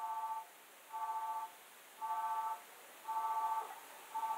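An incoming phone call in the video game GTA 5: a faint electronic ringtone repeating in short, evenly spaced beeping pulses about once per second over a low background hum; no talking.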